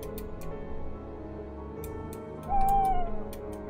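An owl in a horror video game gives a single soft hoot, moderately near, over a quiet low ambient drone, with faint clicks scattered around it.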